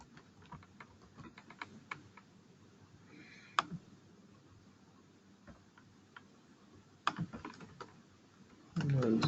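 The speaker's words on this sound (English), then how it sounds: "You can type directly here." Typing on a computer keyboard during an invoice configuration session, with scattered single key clicks and short bursts of taps, faint and close, and a louder rumble at the very end.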